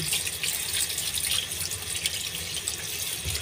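Saba bananas being washed under a running tap in a large, deep sink, a steady close rush of water splashing continuously.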